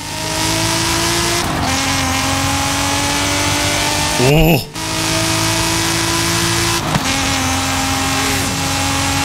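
A NASCAR combustion engine drag races in the video game Forza Horizon 5, a loud sustained roar with rising revs, abrupt gear-shift drops and a brief screeching surge, while a man briefly exclaims.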